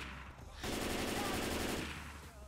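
A Gatling gun fires in the video game Left 4 Dead. It begins abruptly as a rapid, buzzing stream of shots, holds steady and loud for about a second and a half, then cuts off over a background of game ambience.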